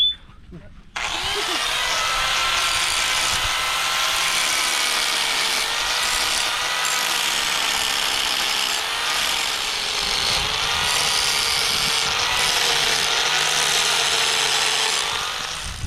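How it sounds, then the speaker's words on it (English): A power sander whirs on loudly and runs continuously with a steady high-pitched buzzing grind and slight wavering in pitch, close up. "this is like a sanding part of his tool to make it completely flat"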